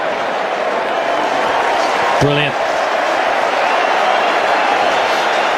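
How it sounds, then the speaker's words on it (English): A cricket crowd roars steadily and loudly throughout, a dense sustained wash of cheering, with a commentator's voice briefly cutting in over the noise. "And the crowd are rising to this too"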